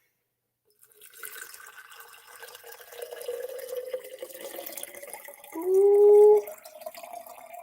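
Filtered water poured into a glass jar for water glassing eggs, a gentle liquid trickle rising in pitch as the jar fills, ending in a brief louder gush. A single short exclamation is heard.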